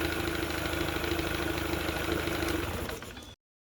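A 15 horsepower Mercury two-stroke outboard idles with a steady, buzzy, slightly knocking drone, up close and alone, fading out in the last half second before the sound cuts off.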